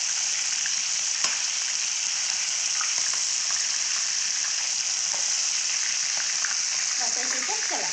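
Fish frying in hot oil makes a loud, dense, unbroken sizzle close up, with faint scrapes as the pieces are turned and a few brief murmurs near the end.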